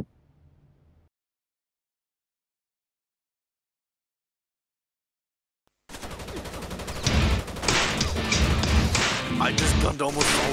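Gunfire in Rainbow Six Vegas 2 breaks out after a long silence, loud dense bursts of shots and thuds continuing to the end, with voices talking over the shooting.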